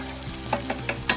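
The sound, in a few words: spices roasting in hot oil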